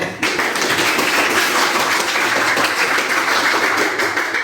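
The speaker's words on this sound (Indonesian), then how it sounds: "Tepuk tangan." A classroom of students claps together in a dense, steady burst of applause, loud and close, sustained for a few seconds without talk.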